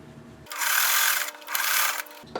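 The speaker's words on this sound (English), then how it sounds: "Now I'll send these two through, and I want to sew them that way." A sewing machine stitches quilt block pieces together in two quick bursts of close, loud motor whirring, separated by a brief pause, with quiet room sound before and after.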